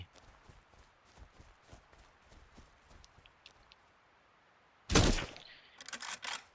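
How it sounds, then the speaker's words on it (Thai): Quiet footsteps crunch along in the survival game Miscreated before a sudden loud gunshot cracks out nearby, followed a moment later by a second burst of rapid shots. "เสียงปืนมาจากตรงไหน"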